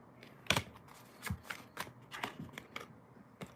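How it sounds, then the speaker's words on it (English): Tarot cards shuffled by hand in a quiet room, a series of crisp snaps and riffling flicks at an irregular rhythm, close and fairly soft, with no talking over them. "I was finna quit shuffling"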